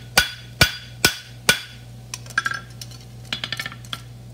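Hammer blows on metal at a forge: four loud, evenly spaced ringing strikes, then a run of lighter, quicker taps, all close and alone without talk, as a blacksmith flattens puckered hot steel on an anvil while forging a roadster.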